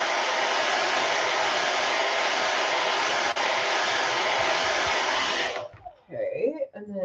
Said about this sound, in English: I'm going to give it a quick hit with the dryer so I don't overdo it.